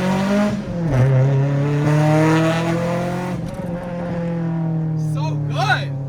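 Acura Integra with a naturally aspirated B-series VTEC engine revving hard, a loud sustained engine drone climbing in pitch as VTEC engages, with people talking and exclaiming over it.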